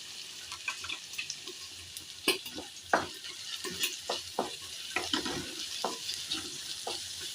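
Chopped ginger fries in a pan for stuffed tomato chaat, a steady close sizzle broken by repeated scraping stirs of a spoon, no voices.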